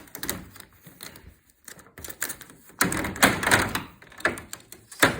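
Tape is pulled off an HVAC heat pump unit in sharp, irregular ripping and crackling bursts, some louder than others, heard up close with short quiet gaps between them.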